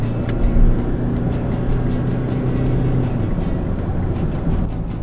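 A 2019 Mitsubishi Triton Inferno's 2.4 litre diesel turbo engine with a 6-speed automatic gearbox hums low and steady on a test drive, a muffled cabin rumble with road noise and faint ticks, no talk.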